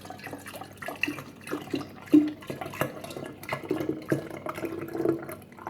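Goat milk is poured into a jar for homemade kefir, a close, uneven liquid splashing and gurgling that keeps going for several seconds without speech.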